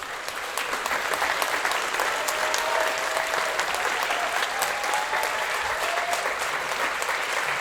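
Sustained applause from a large audience, steady clapping throughout with no voices standing out.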